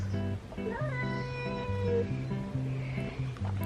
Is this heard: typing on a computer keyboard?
no